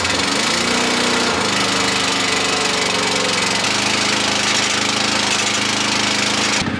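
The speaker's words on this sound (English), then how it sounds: "I'm going to let that engine work its way out of fuel" A John Deere 9570RT tractor's diesel engine runs at a steady loud idle with a rough, knocking rumble, close and continuous throughout, with no talk over it.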